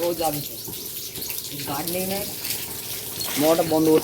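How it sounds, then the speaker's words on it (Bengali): Water is poured so that more than half spills down and splashes, a rushing, gushing flow with voices talking over it in between. "তুই যা জল দিচ্ছিস অর্ধেকের বেশি পড়ে যাচ্ছে দেখ তুই"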